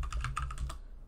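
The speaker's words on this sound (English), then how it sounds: "let's start typing" Quick typing on a computer keyboard while setting up Python on Ubuntu, a brisk run of close key clicks lasting about a second, with no voices.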